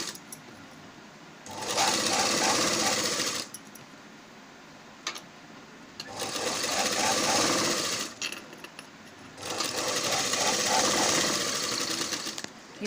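A sewing machine stitches a folded one-inch hem on a pot-neck blouse in three long bursts of steady rapid whirring, with quiet pauses between runs.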